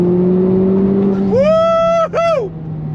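A Honda Civic Type R FL5 pulls hard in second gear, its engine note climbing in a rising whine, dipping briefly at a shift-like break and then rising again, loud and up close.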